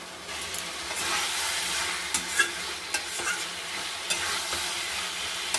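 Fried cauliflower and potatoes tipped into a pan of cooked-down spices, crackling and sizzling steadily with occasional sharp pops and scrapes of stirring, close and loud with no voices.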